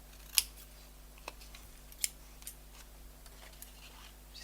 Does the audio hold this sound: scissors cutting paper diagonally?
yes